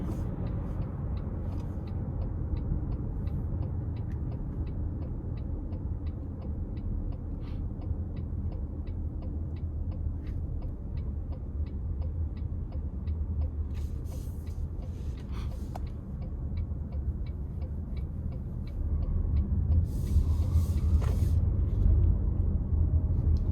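A 2025 Toyota Highlander Limited AWD cruises in eco mode, heard from inside the cabin as a continuous low road rumble and engine hum with faint ticking, growing slightly louder toward the end.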